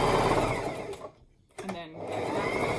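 A sewing machine running a straight stitch on fabric for a homemade wheat heat-pack bag, a loud continuous motor whir that briefly stops mid-stitch, then resumes steadily.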